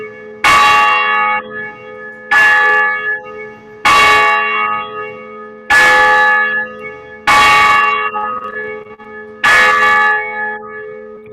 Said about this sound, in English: ready to ring our bell.